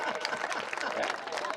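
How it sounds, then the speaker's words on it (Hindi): Applause from the audience at a Hindi comedic poetry gathering (kavi sammelan) in Ahmedabad, a steady dense clapping wash filling the short stretch at moderate loudness. "तालियां कमजोर है आपकी"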